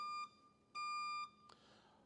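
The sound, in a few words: timer alarm beeping to signal time for questions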